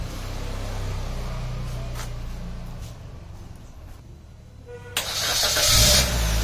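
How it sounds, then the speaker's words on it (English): A car engine cranks with a low rumble, powered by a jump starter, then catches and revs up loudly on the first crank, with a steady hum throughout. "there you see the car has started in the first crank itself"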